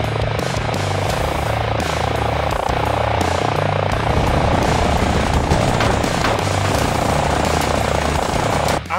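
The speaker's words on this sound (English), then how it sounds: "After that, we create a helicopter game." A helicopter in an Unreal Engine 5 video game gives a loud, continuous rotor and engine drone with a pulsing low throb that holds steady for the whole stretch.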